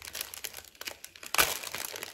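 Taped paper wrapping being torn and unwrapped from a handmade parcel, a run of close crinkling and crumpling bursts with a sharper tearing rip midway.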